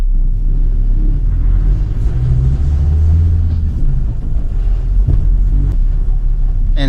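A restored Land Rover Defender drives with a steady low engine rumble, and loose, untightened interior parts rattle and knock throughout at close range inside the cabin.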